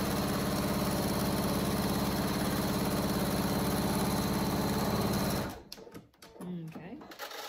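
Sewing machine stitching along the edges of a cat carrier cover, a steady fast mechanical whir running loud for several seconds before stopping, followed by faint handling sounds.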